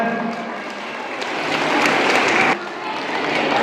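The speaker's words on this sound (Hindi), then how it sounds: "एक बार जोरदार तालियों से उनका स्वागत।" Audience applause greeting arriving guests at a Saraswati Puja ceremony in a Kolkata hall, a dense, steady wash of many hands that swells midway and then eases slightly, with faint voices mixed in.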